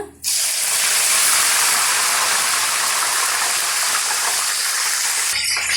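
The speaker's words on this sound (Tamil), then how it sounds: "இப்போ அதே சூடில் கருவேப்பிலை சேர்த்துக்கலாங்க" Curry leaves hit hot oil with a sudden loud crackling hiss that starts abruptly, stays dense and steady for several seconds, then cuts off.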